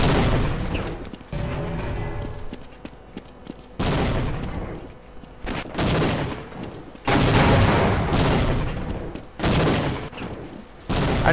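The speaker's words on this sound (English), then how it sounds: "Stop throwing grenades, you assholes!" Heavy firefight in Half-Life: loud, close grenade blasts and gunfire come in repeated bursts with brief gaps between, each explosion booming and ringing out over the din, no talking.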